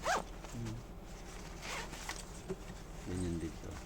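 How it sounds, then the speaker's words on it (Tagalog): The zipper on a New Era waist bag being pulled, short zipping strokes under a person talking. "ganda ng zipper ito."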